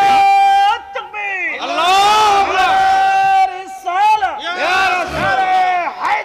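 A crowd at a Bengali religious gathering shouts loudly in unison, voices rising in strong, drawn-out bursts. Short breaks separate the shouts.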